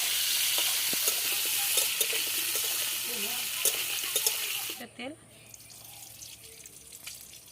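Ginger paste fries in a pan with a loud, continuous sizzle, with scraping stirs and a brief rise in the middle. Near the end the sizzle suddenly drops away, leaving quieter handling noise.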